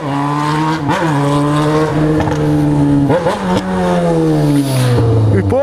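A small motorcycle engine revs hard and close, its droning tone climbing and dropping through several throttle blips before settling into a long, falling pull.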